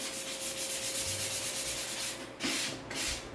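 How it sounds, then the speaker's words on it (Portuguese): A wooden book stand is sanded by hand with fine 600-grit sandpaper, making a close, steady rhythmic rubbing hiss with brief louder strokes near the end. "eu vou dar uma lixadinha também com a lixa"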